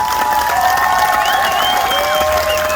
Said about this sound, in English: Everybody give these people a round of applause